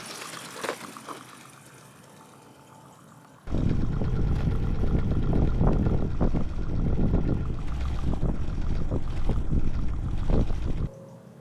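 A homemade Stirling engine powered bicycle runs loudly for about seven seconds, a dense rough whirring and clattering that starts abruptly after a quieter stretch and then cuts off.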